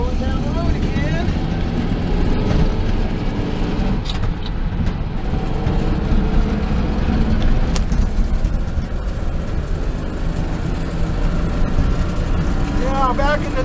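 Car cruising southbound along US Route 99, with steady road and engine rumble throughout and someone talking over it.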